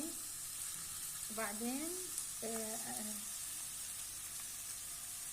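Onion and meat fry in a pot as the base for stuffed carrots, giving a steady, close sizzle that runs through the whole stretch while a voice speaks briefly over it.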